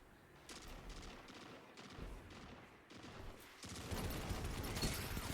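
Bursts of rapid machine gun fire from a first-person shooter game, several short volleys separated by brief gaps, then a longer sustained stretch of shooting near the end, fairly quiet overall.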